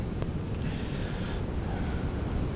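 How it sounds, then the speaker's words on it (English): Steady low rumbling wind blowing outside a tent, a constant broadband roar with faint flapping, heard close and alone. "it's also very windy"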